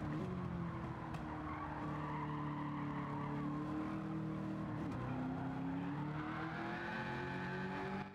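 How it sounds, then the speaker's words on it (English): A 1967 Chevy Nova's tires squeal in a long, wavering whine over a steady engine drone, the pitch rising and dipping as the car moves. "See, like I'm not spinning out, but you can hear them tires."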